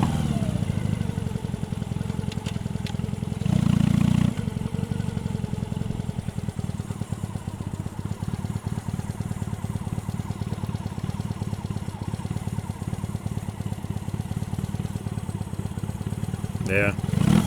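A motorcycle engine runs steadily during a ride toward Griffith Park, heard as a loud, continuous rumbling drone with a brief surge in revs early on and wind noise throughout, while a rider talks over it.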